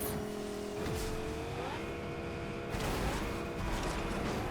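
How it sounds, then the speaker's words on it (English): Video game car in Fortnite Chapter 6 Season 2 pulling up alongside a player, engine revving and shifting pitch as it accelerates, loud and close over steady game background noise. "The car pulling up alongside him."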